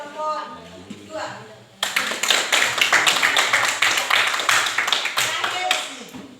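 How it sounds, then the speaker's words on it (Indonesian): Classroom applause breaks out suddenly after a moment of quiet talk, a dense, fairly loud burst of many hands clapping that carries on steadily for several seconds. "beri aplaus untuk kesimpulan dari kelompok 2"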